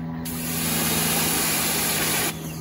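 A pressure washer sprays a soap-soaked seat belt: a loud, continuous close-up hissing jet that starts abruptly and cuts off after about two seconds.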